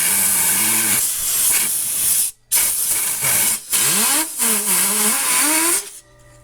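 Loud, sustained hiss of compressed air from an air compressor blowing dust and dirt out of a Harman Accentra stove, in long close-up bursts broken by brief pauses, with a whirring tone rising and falling underneath.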